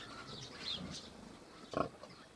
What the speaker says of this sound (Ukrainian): Ще в мене одна свиноматка.